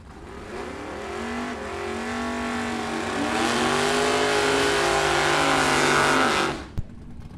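Drag racing in the Pro Avenger class: a 1969 Camaro and a 1968 Chevrolet Nova launch together, with loud engine roar climbing in pitch for several seconds before cutting off sharply, followed by a single knock.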